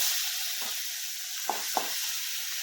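Garlic frying in a pan for pasta, a soft steady sizzling hiss with a few brief scrapes or taps from stirring, close and fairly quiet.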